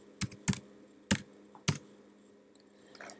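A few keystrokes on a computer keyboard, entering a value into an engine porting calculator, land as sharp, separate close clicks with short gaps between, in a quiet room with a faint steady hum.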